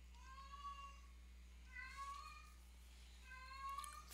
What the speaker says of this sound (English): He's been meowing since we got to the new place